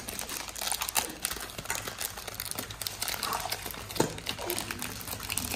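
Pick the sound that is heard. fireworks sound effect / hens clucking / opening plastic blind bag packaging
opening plastic blind bag packaging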